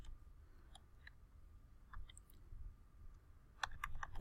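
Faint, sparse clicks of a computer keyboard as an ISBN number is typed in, scattered keystrokes with a quicker burst at the end over a low room hum.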